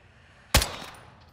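A single close, sharp gunshot in Call of Duty, one loud crack with a short fading tail against a quiet background.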